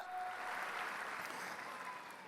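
A congregation at a Christmas service in a Bethany church in Nginden claps as one, a soft, even wash of distant applause that stays steady throughout.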